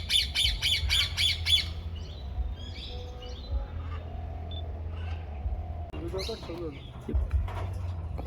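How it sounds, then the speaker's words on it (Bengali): Yellow parakeets at a forest sanctuary give a rapid series of five sharp, shrill squawks at the start, followed by fainter scattered bird calls over a low background rumble. "হলুদ টিয়া এবং কিছু পায়রা আছে এখানে"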